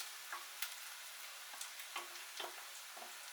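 Sliced onions with turmeric fry in oil, a faint, steady sizzle broken by soft scraping stirs and small clicks of a utensil, close and without talk.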